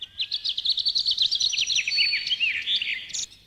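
Small birds chirp and twitter in a rapid, lively series of high tweets, close by and unbroken for a few seconds.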